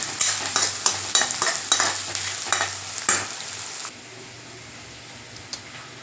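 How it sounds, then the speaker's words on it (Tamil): Onions and garlic sizzle loudly in a pan with rhythmic stirring scrapes, then the frying settles into a quieter steady hiss. "வெங்காயம் நல்லா வதங்கட்டுங்க"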